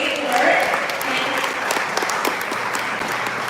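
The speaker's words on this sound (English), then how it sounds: "I think that deserves a round of applause" A community assembly audience breaks into steady, lively applause in a meeting hall, the clapping dense and even throughout with a faint murmur of voices underneath.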